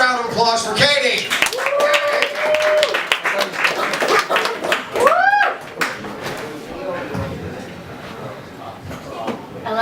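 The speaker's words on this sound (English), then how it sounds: "Now another round of applause for Katie." An audience at a poetry performance gives a round of applause, clapping mixed with cheers and whoops, while voices talk over it and the noise fades toward the end.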